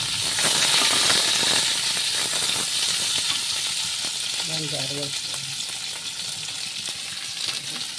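Onions frying in a pan at home, a steady loud sizzle and crackle that runs through the whole stretch, with a brief softer clink near the middle.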